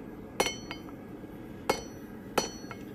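Hammer striking hot steel over the edge of an anvil while drawing out a stem, three sharp metallic clinks spaced about a second apart, fairly close and clear with faint ringing between blows.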